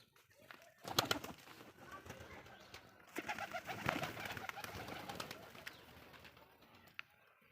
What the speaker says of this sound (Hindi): ये हमारे कबूतर हैं खूबसूरत माशाल्लाह